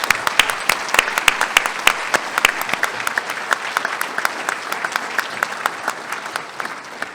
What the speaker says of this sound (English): I would like to ask those New Horizons team members who are in the audience to stand up for your applause